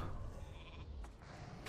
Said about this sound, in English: Three sheep in my face, oh god.